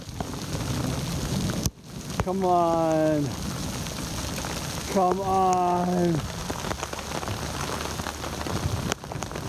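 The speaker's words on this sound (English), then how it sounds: "So now it started hailing." Steady hard patter of hail or heavy precipitation drumming on a surface, with a voice briefly calling out twice over the din.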